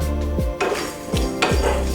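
Peppercorns and spices dry roast in a pan without oil for a railway mutton curry, with three clear metallic scrapes and clinks of a utensil against the pan over a low background hum.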